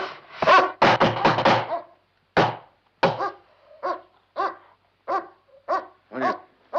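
A dog barks close by. A quick cluster of sharp barks comes first, followed by a string of evenly spaced single barks, loud and clear with no talking.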